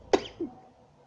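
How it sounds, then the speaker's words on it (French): One short, sharp cough close to the mic, followed by a fainter second catch of breath, then quiet. "En plus je tousse."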